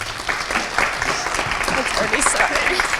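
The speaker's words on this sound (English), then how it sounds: "One more round of applause for both student athletes" A crowd claps steadily for two student athletes on a high school National Letter of Intent signing day, dense close applause filling the whole three seconds.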